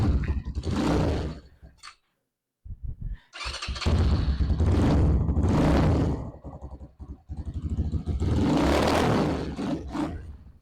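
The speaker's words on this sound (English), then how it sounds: "hopefully with our microphones you can hear the exhaust, the muffler sound well" A Ghost 250cc chopper motorcycle engine revs loudly and close by, its exhaust and muffler roaring in repeated surges with a brief silent break partway through, with some wind.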